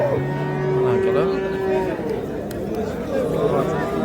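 Cattle low at a busy livestock market, one long deep moo rising out of the crowd noise while people chatter and talk loudly close by.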